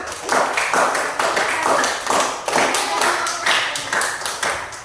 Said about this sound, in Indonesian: Tepuk tangan semua untuk kita semua.